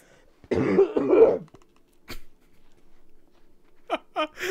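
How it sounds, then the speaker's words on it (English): A close, throaty cough and throat clearing, followed by a sharp click and a few short bursts of cough-like sounds. "Nice cough to end it off"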